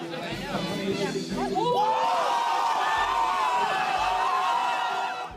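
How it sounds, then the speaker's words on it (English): A crowd in Washington Square Park, New York, erupts in loud whoops, shouts and cheers as a couple share their first kiss, with excited voices and chatter mixed throughout. "when they shared their first kiss in front of everyone, the crowd went wild"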